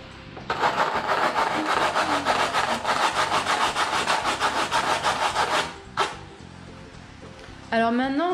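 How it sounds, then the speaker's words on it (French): Steady rhythmic sanding strokes rasp across a cardboard armchair built from infant milk tins, loud and continuous for several seconds before stopping, followed by a brief scrape and a short spoken voice at the end. "Alors maintenant, on va venir poncer pour vraiment tout égaliser partout."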